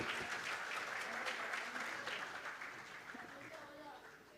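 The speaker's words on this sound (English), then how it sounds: "round of applause for the legends right here" Steady crowd applause from a large audience at a boxing convention opening ceremony, dense and continuous, slowly fading toward the end with faint voices mixed in.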